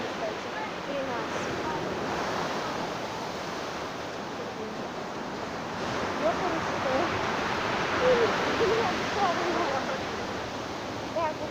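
Strong sea waves surging and breaking on a shore lined with breakwaters, a steady broad rush of surf that swells slightly louder midway, heard at moderate distance with no one speaking.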